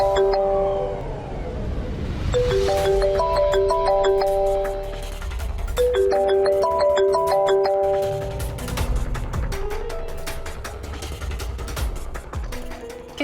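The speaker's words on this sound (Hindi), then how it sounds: "किसका फोन आ रहा है सुबह सुबह?" A phone ringtone plays a repeating melodic chime pattern at close range, with the tune repeating several times over a low background hum and no talk.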